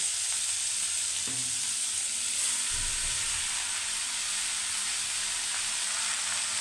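Steady sizzling of ash gourd pieces frying in hot oil, with a couple of low thumps and scrapes as pieces are moved in the pan.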